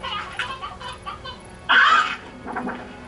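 A chicken in the Slime Rancher video game clucks in a loud burst, with softer clucking and game sounds continuing around it, close and prominent with no talking.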